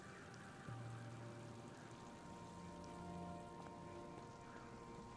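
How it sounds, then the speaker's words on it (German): Rain pours steadily in a retro-styled English town in a video game, a dense, even wash of droplets on surfaces with faint tonal game ambience underneath and no voices. "Regen."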